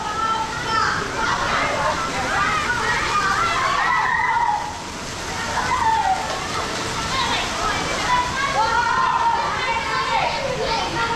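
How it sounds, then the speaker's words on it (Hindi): Water from a waterfall and fountains at the Mughal-era Shalimar garden flows in a steady rushing wash, with children's voices and lively chatter of visitors heard over it throughout. "ये है झरने का पानी जो ऊपर से बहता हुआ नीचे जा रहा है"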